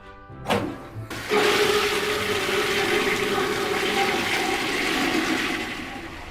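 A toilet flushes loudly after a couple of clicks of the handle, water rushing and then refilling steadily, fading slightly toward the end.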